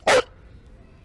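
One short, sharp dog bark rings out close by and is followed by quiet.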